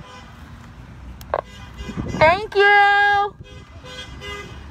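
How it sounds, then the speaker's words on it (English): A passing car honks in support of a street protest in Royal Oak, Michigan: a quick toot, then a loud, steady horn blast lasting nearly a second over traffic noise, with people's voices nearby. "There's a honk of support."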